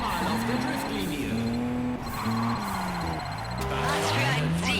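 Car drifting in the racing video game Juiced 2, engine whining through shifting pitches with tire squeal, continuous and loud, with someone talking over it.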